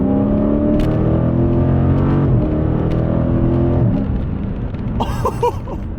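A Dodge Challenger Widebody Scat Pack with the 392 V8 pulls hard in third gear, a loud steady engine drone rising in pitch with a couple of brief dips, heard from inside the car and fading slightly at the end.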